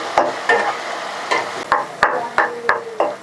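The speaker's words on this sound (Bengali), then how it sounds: "এবার রসুনটাকে আমি 5 মিনিট ভেজে নেব।" Garlic and onion frying in a pan for chicken aloo kosha, a steady sizzle broken by about eight sharp scrapes and knocks of a spoon stirring against the metal, close and alone.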